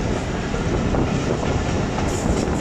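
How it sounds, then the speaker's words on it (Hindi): Riding the Chaman passenger train from Quetta toward Gulistan station, loud continuous rumble and clickety-clack of wheels on rails, steady and close, with a faint high squeal near the end. "अभी हमारी ट्रेन उनके दरमियान से गुजरेगी।"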